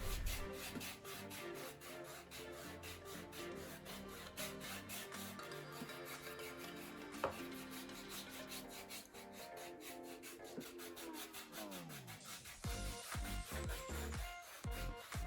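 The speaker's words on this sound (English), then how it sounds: "use a foot file to clean off all rough skin." A foot file rasps steadily over rough, dry skin on the feet, a continuous close scraping and rubbing texture with short pauses and strokes that speed up near the end.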